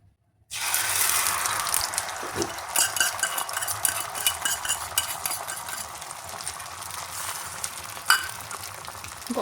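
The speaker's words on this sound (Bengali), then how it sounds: "গরম গরম ডিম ভাজা" Eggs fry in a hot pan at home on a winter morning, giving a steady crackling sizzle with stirring and occasional light utensil clinks throughout, close and fairly loud, with no talking.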